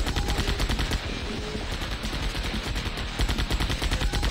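Mech robot in the Battle Mechs video game firing its guns in continuous rapid bursts, a loud, steady rattle of automatic fire with a brief lull partway through.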